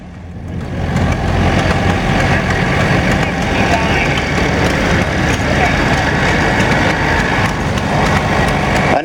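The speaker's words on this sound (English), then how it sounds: "Here's a real nice 55 diesel." A Massey Ferguson 55 diesel tractor engine runs at a steady idle at an outdoor vintage tractor show, a continuous close mechanical chug with people talking in the background.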